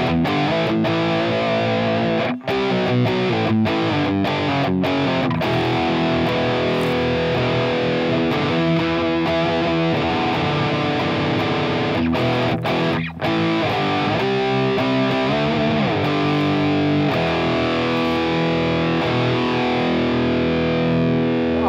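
Heavily distorted electric guitar, a 2008 Gibson Longhorn Double Cutaway with two EMG 85 pickups, plays sustained chords and riffs, loud and continuous with a couple of brief pauses, no voices.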